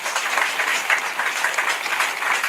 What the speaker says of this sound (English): Give the sisters overhand a good clap.